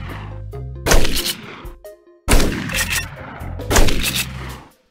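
A Shotgun Peashooter fires in a modded Plants vs Zombies game with three loud, punchy blasts, each decaying into a ringing tail, with short tonal game sounds between the shots.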